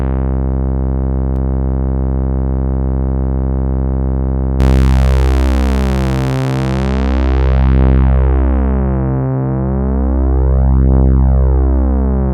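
A buzzy Moog synthesizer tone sweeps through a resonant ladder filter, first thin and steady, then a fuller note with slow, rhythmic filter sweeps rising and falling.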